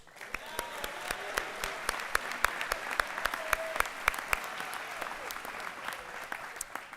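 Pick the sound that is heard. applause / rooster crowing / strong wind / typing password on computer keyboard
applause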